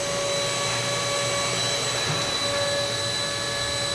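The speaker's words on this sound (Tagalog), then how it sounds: "Mag-vacuum tayo, guys." A vacuum cleaner runs steadily at close range with a loud, constant whine and airy roar, holding the same pitch throughout with no talking over it.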